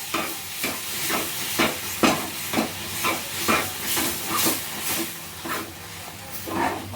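Ripe banana mixture for barfi stirred and roasted in a pan over a low flame, giving a steady hiss and sizzle with regular scraping strokes about every half second, with no talk.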